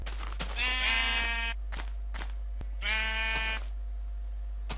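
Two drawn-out bleats from a sheep in Minecraft Beta 1.7, each about a second long and clearly heard alone, separated by a short pause with soft clicks.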